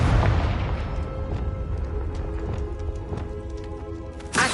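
A Confringo explosion spell from the video game Hogwarts Legacy booms and fades into a crackling rumble, followed by light scattered impacts and a short burst at the end.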